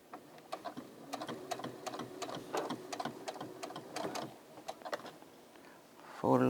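A Brother SE600 sewing and embroidery machine stitches a pullover in quick rhythmic ticking runs, close and fairly quiet, pausing briefly before a voice starts speaking at the end.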